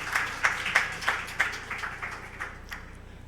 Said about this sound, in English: Round of applause, why not?